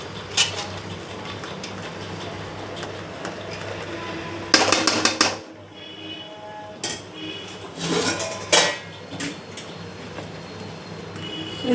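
A spoon stirring dal curry in a pot, with scattered metallic scrapes and clinks against the vessel, some louder bursts in the middle, over low kitchen background noise.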